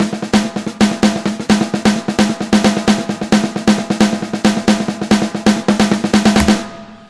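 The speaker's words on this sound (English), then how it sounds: "Now if I do the same thing and mix together ghost notes and accented notes," Sixteenth-note drum pattern mixing soft ghost notes with loud accented hits, a steady rapid stream of strokes with clearly varying volume, played close and alone, ending with a stray knock on a microphone stand.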